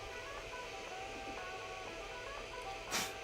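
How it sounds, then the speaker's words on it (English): A freshly unboxed Kingroon KP5L 3D printer runs a benchy test print, its stepper motors whining in shifting tones with a steady faint hum and a brief louder burst near the end. "Just unboxed this printer, so we're printing a test print with a benchy."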